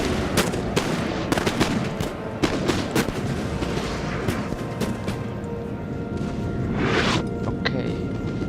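Rapid bursts of musket fire and heavy booming cannon shots crackle continuously in the video game Napoleon: Total War, dense and loud, with occasional sharper cracks standing out.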